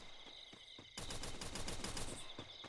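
Gunfire in the mobile battle-royale game Free Fire: a few sparse shots at first, then a loud, rapid burst of automatic fire that continues steadily, close and alone without speech.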